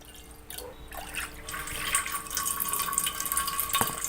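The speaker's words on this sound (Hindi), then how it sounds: "बर्तन के अंदर आपने इस तरीके से कुकर की लिड के ऊपर पानी डाल देना है" Water from a tap is poured over a pressure cooker lid inside a vessel, first a thin trickle, then a fuller splashing stream running steadily up close, with a few faint clinks of metal.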